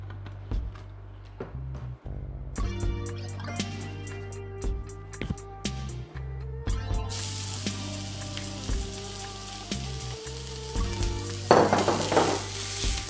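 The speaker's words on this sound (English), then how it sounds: "Just gonna saute them lightly." Onions sauteing lightly in a tiny bit of oil give a steady sizzle with scattered stirring clatters and pan knocks, growing denser and brighter toward the end; no one speaks.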